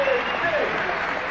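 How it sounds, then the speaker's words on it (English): A crowd at the Oriental World of Self-Defense martial arts event applauds karate grand master Tadashi Nakamura, steady close clapping filling the whole moment, with a commentator's voice over it. "the crowd here at the Oriental World of Self-Defense shows their appreciation for his talents"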